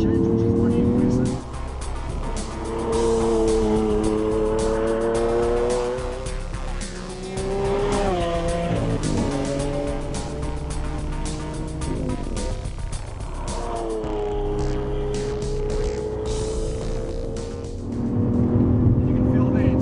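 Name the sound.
Lamborghini Aventador engine with 7-speed ISR gearbox gear changes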